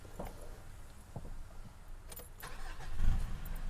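A few clicks and faint rattles, then a Mitsubishi Triton pickup truck engine turns over and fires up, its low rumble swelling near the end.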